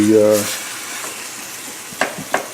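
Ingredients for Louisiana-style dirty rice sauté in a pan with a soft, continuous sizzle. A brief voice opens the moment, and two sharp utensil knocks or stirs come near the end.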